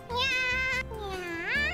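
A cat girl character in the game Catgirls and Chill gives two drawn-out, high, sing-song meows, each rising and falling in pitch. A human voice imitates the cat.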